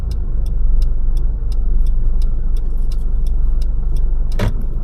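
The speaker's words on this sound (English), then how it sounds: "put up the reverse gear and slowly start reversing the vehicle" A car reversing slowly during a driving test: a steady low engine hum inside the cabin with a quick, regular ticking over it and one brief louder knock near the end.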